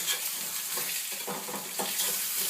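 Fish frying in a pan with a steady sizzle, then a few scraping, clattering stirs as a thin fish spatula works underneath to flip the pieces; close and fairly loud, no voices.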